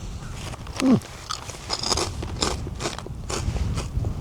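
Salmon skin chips being eaten outdoors while hiking in Japan: close, crisp crunching and chewing with irregular crackles and bites over a low rumble of wind.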